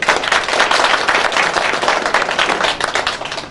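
Audience applause at an Eid Milan party for the Loncin motorcycle company: a dense, steady burst of many hands clapping together, loud and close, with no talking over it.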